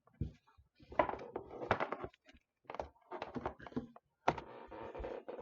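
Irregular clacking of keys on a computer keyboard, bursts of typing separated by brief pauses, close and fairly quiet.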